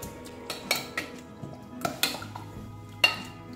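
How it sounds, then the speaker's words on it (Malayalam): A ladle mashing cooked jackfruit seeds in a metal pot gives a run of irregular clinks and knocks, about a dozen sharp hits spread unevenly over a few seconds, close up, with no talking. "ഇപ്പോൾ ചക്കക്കുരുവയ്ക്ക് ഞാനൊരു തവി കൊണ്ട് ഉടച്ചെടുത്തിട്ടുണ്ട്."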